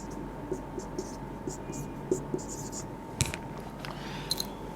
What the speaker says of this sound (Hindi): अब मेरे पास भाई इनको लिख ही लेता हूं मैं